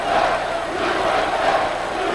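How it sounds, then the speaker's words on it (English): A smaller crowd of American fans in a boxing arena roars and chants steadily, a dense continuous wall of voices heard from a distance. "All of a sudden, the Americans are making more noise"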